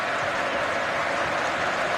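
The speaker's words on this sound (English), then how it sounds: "there'll be thunderous applause for every single player now" A stadium crowd at an Everton versus Chelsea football match applauds the players with a steady, dense wash of clapping that stays even throughout.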